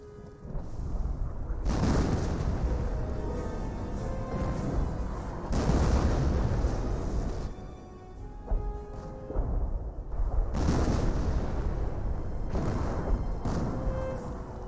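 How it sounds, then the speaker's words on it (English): A mortar emplacement fires in the WWII strategy game Company of Heroes, producing repeated heavy booming blasts and rumbling artillery bursts that swell and fade over about fifteen seconds of battle noise. "Mortar emplacement, engaging somewhere."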